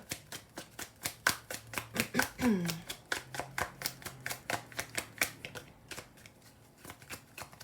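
Tarot cards shuffle in a rapid, even train of crisp riffling snaps close to the microphone, with a brief murmured voice in the middle.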